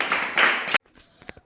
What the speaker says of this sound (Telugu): క్లాప్స్ నరసింహ కూడా.